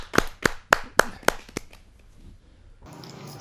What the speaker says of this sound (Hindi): जरा जोरदार ताली के साथ हम स्वागत करें